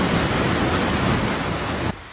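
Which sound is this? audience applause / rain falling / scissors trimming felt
rain falling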